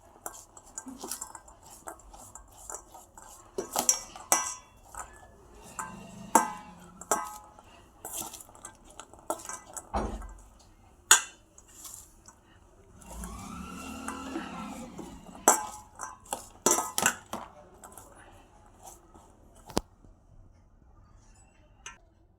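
Chana chaat ingredients are tossed together in a bowl with a spoon, giving light scattered clinks and scraping taps against the dish. The sounds are close and quiet, arriving in irregular bursts with brief pauses.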